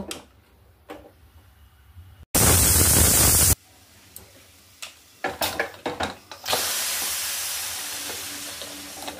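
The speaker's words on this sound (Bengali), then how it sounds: "এবার 2 থেকে 3টে আমি সিটি দেব।" Pressure cooker cooking quinoa khichdi lets out a loud, sustained hissing whistle of steam, followed by a few sharp clatters and then a longer, steady rushing hiss of released pressure.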